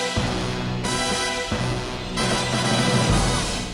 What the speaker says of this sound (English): in a game like Agent Under Fire, for instance, picking up these tokens treats you to this